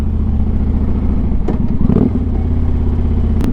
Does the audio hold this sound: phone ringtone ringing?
no